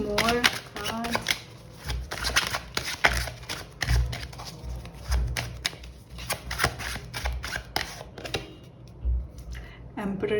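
Tarot cards shuffled by hand in a series of quick, crisp riffling bursts with soft slaps between them, close and fairly loud, with a little speech in the background.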